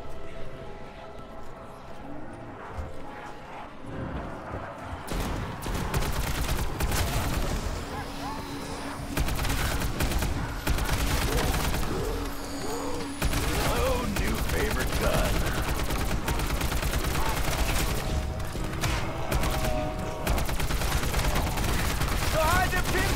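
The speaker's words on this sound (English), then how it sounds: "Kinda hard to hear anything over the shrieks, explosions, and gunfire." Black Ops 4 zombies gameplay on the Blood of the Dead map, with dense continuous rapid gunfire and booming explosions, loud and chaotic throughout, the game's sound mixed with shrieks and clatter.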